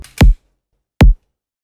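Two single kick drum hits from an electronic beat, each a punchy deep thump with a short click on top, clean and alone with silence between them.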